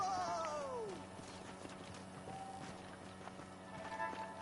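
Horse hooves clip-clopping in the Red Dead Redemption video game, faint and steady under a falling whistle-like tone and ambient game sound, with no one talking.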